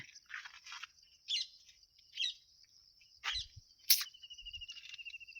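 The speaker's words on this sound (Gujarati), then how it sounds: "પંખીડા બોલે ને મજા આવે" Small birds chirp and tweet in short, scattered bursts on a quiet village farm in the morning. The calls are fairly faint, with gaps of near silence between them and a thin sustained whistle in the background.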